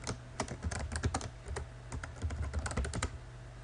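Typing on a computer keyboard while entering a spreadsheet label, with quick irregular bursts of light key clicks, close and fairly quiet, pausing briefly between runs of keystrokes.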